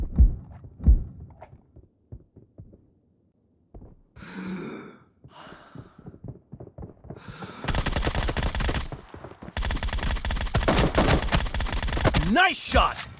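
Bursts of rapid gunfire from the mobile battle-royale game PUBG Mobile, including boat combat, fill the second half in loud dense volleys, preceded by sparse clicks and thumps.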